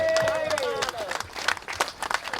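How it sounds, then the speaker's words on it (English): Audience applause at a community celebration of a restored boat ramp at Pohoiki, beginning as a voice trails off and building into scattered, uneven claps from a crowd outdoors. "let's give Finn a round of applause"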